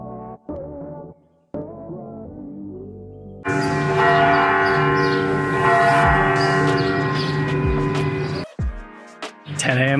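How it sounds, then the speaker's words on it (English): Church bells chime loudly at ten in the morning in Tirana, Albania. Sustained ringing tones swell and overlap for several seconds after a quieter start, with no talking. "10 a.m. on the dot, the bells are chiming."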